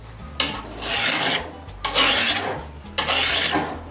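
A coarse file sharpening a bush-clearing blade, worked from base to tip in three long, loud rasping strokes about a second and a half each, close-up with short pauses between and no talking.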